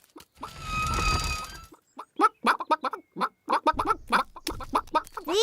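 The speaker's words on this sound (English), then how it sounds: "These chickens don't look dangerous." Cartoon chickens cluck in quick, clipped bursts after a brief rustling, whirring noise, the clucks close and irregular, several at a time in a scattered rhythm.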